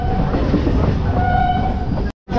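Local train pulling into platform 4 at Krishnanagar station, a loud, close steady rumble of wheels and carriages with a sustained tonal whine, cutting off abruptly at the end.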